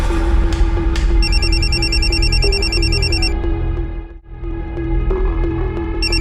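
A phone rings in a Mumbai crime drama scene, an electronic ringtone chiming in repeated bursts over a steady droning hum, pausing briefly before resuming near the end.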